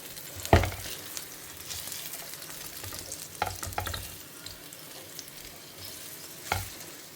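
Raw plantain sautés in a pan on the stove with a steady, soft sizzle. A utensil stirs and scrapes it now and then, giving a few louder knocks spread across the stretch, with no talking.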